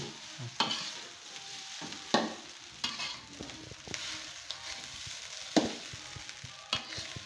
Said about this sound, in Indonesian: Ini kapan selesai yang ngaduk-ngaduk ini? Aduk-aduk terus sampai masak.